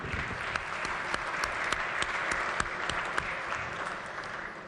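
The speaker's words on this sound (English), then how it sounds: "give them a round of applause as well" A round of applause fills a legislature chamber, steady dense clapping from a seated assembly with a few sharper individual claps standing out, continuing at even volume to the end.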